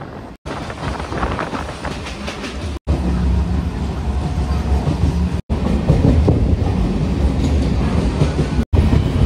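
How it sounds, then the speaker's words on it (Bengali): Bongaon to Ranaghat local train running between stations, continuous loud rolling rumble with rhythmic clickety-clack of wheels over rail joints, heard from inside the moving train. "সাতবেড়িয়া স্টেশন ছাড়ার পরে আমাদের ট্রেনের পরবর্তী স্টপেজ গোপালনগর"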